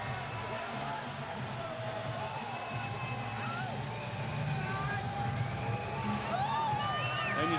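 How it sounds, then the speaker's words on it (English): A large arena crowd at a Mike Tyson heavyweight boxing bout roars and cheers continuously, with dense babble and scattered whistles close and loud throughout, and no clear separate voice on top. "And listen to the crowd for the former heavyweight champion of the world."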